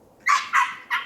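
A dog in a training session gives three short, sharp barks in quick succession, close and loud, with quiet between them.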